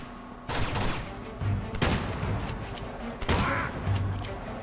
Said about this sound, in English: lot of shots